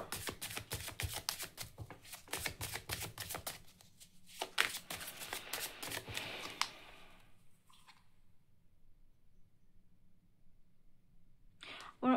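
Tarot cards are shuffled and drawn in a quick, dense run of riffling clicks and slaps that thins out into quiet, with a brief handling noise at the end.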